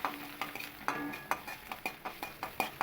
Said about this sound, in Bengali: এই জিরে আর ধনের গুঁড়ো দিয়ে আমি একটু মশলাটাকে একটু কষিয়ে নেব